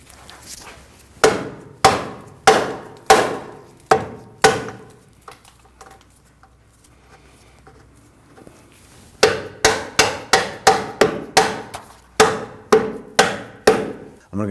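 A large Phillips screwdriver struck repeatedly to line up bolt holes while replacing the front CV axle on a 2009-2017 Volvo XC60 3.2L, sharp metallic taps in two bursts, six then about a dozen quicker ones, close and loud.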